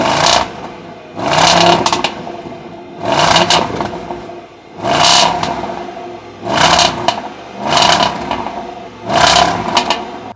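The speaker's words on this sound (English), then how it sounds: "the start up of this vehicle, which is incredibly impressive" A 2021 Range Rover Sport SVR Carbon Edition's 575 bhp V8 fires up and revs repeatedly, seven loud surging bursts in a steady rhythm, each rising and falling back between pulses.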